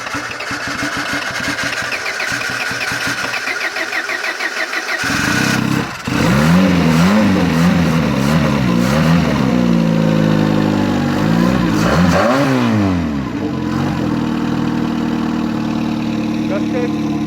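A Renault Clio Turbo engine cranks, catches and starts after fuel-system work, then idles and revs up and down with rising and falling pitch, loud and close with some talking over the running engine.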